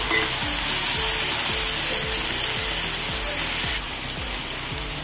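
Cauliflower frying in a pan with softened tomatoes, a dense continuous sizzle with a regular rhythm of stirring scrapes, close and loud, easing slightly near the end.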